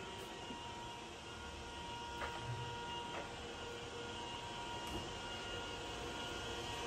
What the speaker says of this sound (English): Working of spindle at its maximum feed rate.